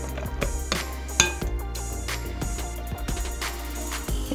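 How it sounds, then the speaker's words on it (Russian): A spoon scrapes and clinks against a bowl while candied fruit and raisins are stirred into a curd dessert mixture with poppy seeds, a steady series of light knocks and scrapes close by. "Все перемешиваем."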